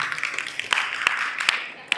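A school audience claps in response to a student organization's presentation, sharp claps rising over a dense hall murmur and chatter in a short, uneven burst.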